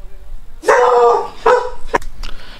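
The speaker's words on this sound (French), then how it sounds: "mon chien a aboyé pendant ce temps-là" A dog barks three or four times nearby, loud, with short gaps between barks and faint background noise.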